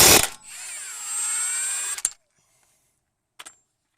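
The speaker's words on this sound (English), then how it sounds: "Using an impact tool, torque off and remove the CV axle nut using a 30mm socket." An impact wrench with a 30mm socket whirs loudly for about two seconds removing a Toyota CV axle nut, stops with a sharp clunk, then a brief short burst follows after a pause.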